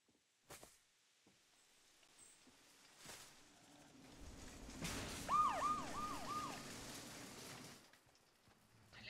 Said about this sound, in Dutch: Hoorde je die sirenes niet? Ja, ik hoorde die sirenes.